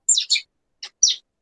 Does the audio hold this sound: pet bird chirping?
yes